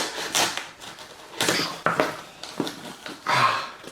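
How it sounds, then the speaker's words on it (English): Sharp scissors cut open a cardboard sunglasses box in a series of close, crisp snips and scrapes, a handful of irregular bursts with short pauses between them. "talking and unboxing is pretty difficult, especially with this pair of really sharp pair of scissors here"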